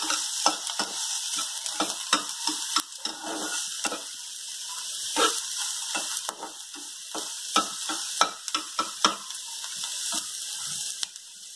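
Onions frying for stuffed pointed gourd, a steady hissing sizzle with frequent spatula scrapes and taps as they are stirred, close by and with no talking.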